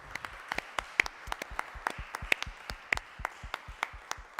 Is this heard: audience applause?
yes